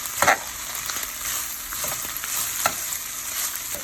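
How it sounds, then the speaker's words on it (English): A spoon stirs ground beef and pasta together in a hot pan, with a steady sizzle underneath and a few sharp scraping knocks of the utensil against the pan, close up. "I'm gonna stir it together."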